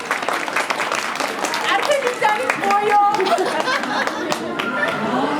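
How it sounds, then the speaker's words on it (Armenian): An audience claps loudly and steadily at a children's stage event, a dense wash of applause that runs the whole time, mixed with voices and chatter. "Մեկ անգամ էլ բարձր ծափահարենք"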